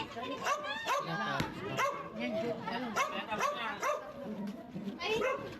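A dog barks and whimpers repeatedly over several seconds, its yelps and whines mixed with people talking nearby.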